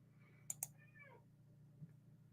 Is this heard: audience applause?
no